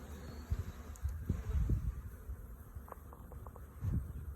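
A low, steady honeybee buzz from an opened hive fills the air, swelling and fading in places, with faint handling knocks and brief higher tones near the end.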